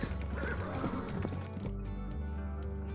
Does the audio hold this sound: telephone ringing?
no